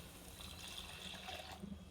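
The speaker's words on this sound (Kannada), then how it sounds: "ಈಗ ಇದಕ್ಕೆ ನೀರು ಹಾಕ್ಬೇಕು." Water poured into a cooking curry whose masala has cooked down, giving a faint, steady, continuous splashing pour with no voices.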